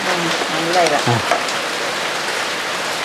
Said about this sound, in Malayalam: നല്ല മഴ വരുന്നു അല്ലേ മഴ വരുന്നല്ലോ